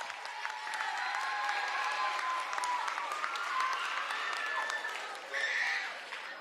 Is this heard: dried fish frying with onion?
no